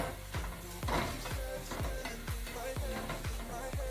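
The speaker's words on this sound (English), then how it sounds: "And you're just gonna saute that for a few minutes." Onions sauté in a pan, a close sizzle pulsed by rapid, rhythmic stirring strokes about twice a second, with no talk.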